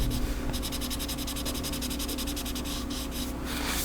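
A pen or marker scribbles quickly across paper, a dense rhythmic scratching of short rapid strokes, close and steady, then a few slower rubs near the end.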